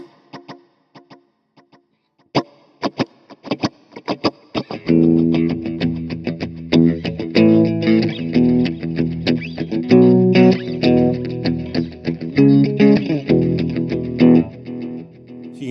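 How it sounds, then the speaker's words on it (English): Electric guitar through the reverb effect of a Kemper Profiling Amp, notes ringing out with a lush, spacious reverb tail, starting sparse and plucked, then building into sustained, layered chords that wash together. "it's just a usable, really nice reverb."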